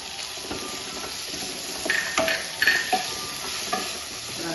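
Chopped onion and half a tomato sautéing in a pan, with a steady soft sizzle under occasional scraping stirs and a few brief metallic clinks, close by and moderately loud.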